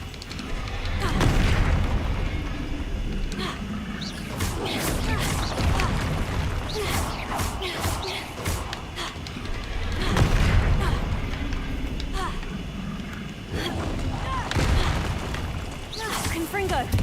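Repeated blasting-spell explosions in the wizarding video game Hogwarts Legacy, a run of loud booming bursts and crashes in close succession during a fight against a troll, with a voice shouting spell names over the battle noise.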